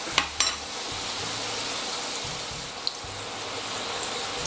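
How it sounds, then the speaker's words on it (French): Food sizzles gently over low heat in a frying pan with a steady soft crackle, punctuated by a couple of light clinks near the start. "on va les cuire tout doucement"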